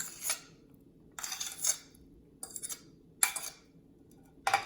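A spoon clinks against a bowl in short bursts while chia seeds, soaked poha and mashed banana are mixed together, five brief scraping, tapping strokes separated by quiet pauses.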